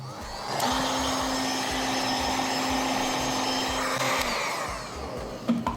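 Heat gun warming the adhesive of an Arai Contour-X helmet spoiler, a steady close whooshing blower roar with a faint whine that holds for several seconds, then cuts off near the end.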